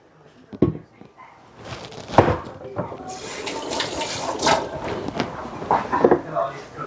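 Tap water running into a sink to wet hands before handling sticky dough in a home kitchen, a steady splashing flow with some clattering near the start, fairly close.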